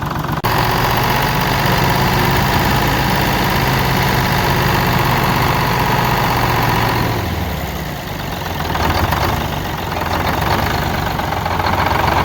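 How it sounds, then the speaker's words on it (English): An engine idles loudly with a rough, uneven rumble from a random misfire, its steady running stumbling and dipping briefly before settling again, with no talk over it. "So we started developing a bit of a misfire here"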